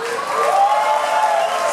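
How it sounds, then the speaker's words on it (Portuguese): Audience applause for Xuxa at a club show: sustained crowd clapping with cheering mixed in, loud and continuous, with a faint tone running under it. "aplausos para a Xuxa"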